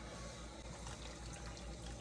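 Hot water poured into a container, a steady close splashing trickle that runs unbroken for a couple of seconds with no voices.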